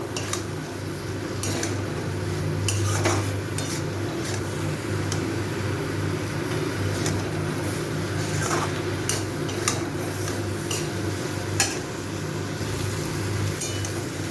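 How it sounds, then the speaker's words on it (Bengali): Dried Lote fish mixed with chili powder and spices in a pan on a gas stove, a steady low hum under scattered light clinks and scrapes of a utensil against the pan, close and moderate, with no talking. "এবার এই সবগুলো ভালো করে মিশিয়ে নেব"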